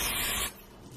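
Hair spray from an aerosol can spritzed around the hairline, heard as one short, close, steady hiss that cuts off halfway through.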